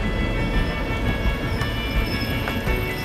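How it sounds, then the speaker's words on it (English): Russian train rolling north on rails through Siberia, a loud, constant rumble of wheels and carriages with faint squeals, heard from aboard with no voices. "As my train continues its journey north towards the gas fields"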